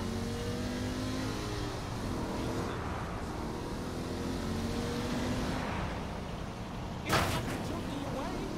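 Car engine in Saints Row: The Third, droning steadily and revving throughout, loud and continuous, with a sharp burst near the end.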